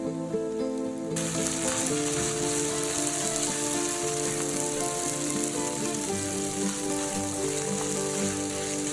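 Steady, close sizzling and crackling of onions stir-frying in a hot pan until translucent, continuous throughout, with faint music underneath.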